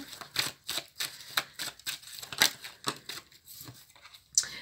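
Tarot cards drawn and shuffled from a deck, giving a run of quick, crisp papery snaps and flicks in an uneven rhythm, close and fairly quiet, with no voice.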